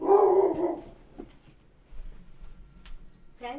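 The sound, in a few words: dogs barking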